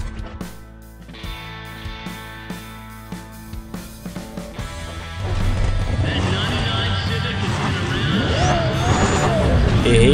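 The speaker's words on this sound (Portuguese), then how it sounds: "Errei, ainda quase estourei o motor do carro." A racing car's engine in Need for Speed: ProStreet revs hard, with choppy gear shifts at first and then a louder, rising, sweeping whine that holds to the end, as a voice talks at times.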